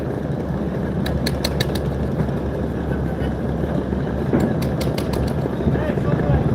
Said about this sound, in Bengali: সবার শেষে ব্যাক গিয়ারে ছেড়ে যাচ্ছে এম খান সাত